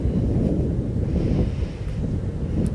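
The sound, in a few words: cool wind blowing outdoors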